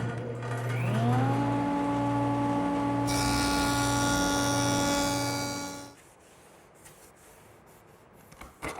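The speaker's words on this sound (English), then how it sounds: "So I will have to turn to the joiner to straighten out these edges." Woodworking jointer straightening board edges: a steady motor whine with a rhythmic pulsing hum, rising into a brighter cutting roar for a few seconds, then the machine cuts off and quiet room noise follows with faint handling clicks.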